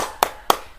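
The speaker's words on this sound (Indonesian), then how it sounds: "Mari kita kasih tepuk jempol kepada Diana." Two sharp, close hand claps about a quarter second apart, part of a rhythmic 'tepuk jempol' clapping routine in a classroom.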